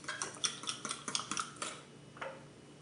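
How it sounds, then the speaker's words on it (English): A utensil stirring a cabbage drink in a container, making a quick run of quiet clinks and taps that fades out after about two seconds. "I am going to stir it though."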